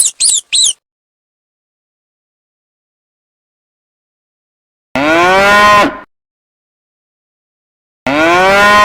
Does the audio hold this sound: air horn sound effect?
no